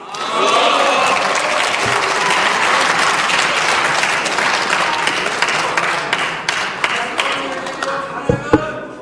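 Applause from a parliamentary audience during a political speech, many hands clapping densely at first and thinning into scattered individual claps and taps toward the end, loud and near, with a few voices underneath.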